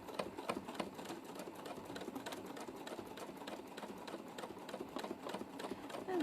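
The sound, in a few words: sewing machine doing free motion quilting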